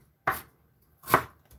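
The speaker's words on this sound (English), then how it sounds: "I'm cutting the ginger to add to the saucepan." A knife chops through fresh ginger on a cutting board, two distinct close, crisp thuds about a second apart, with a faint third at the end and no voices.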